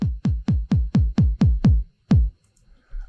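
A house beat plays as a run of eight punchy kick drums in an even, steady pulse with subtly shifting intensity, then one final kick after a short gap, each thump deep and close with a quick decay.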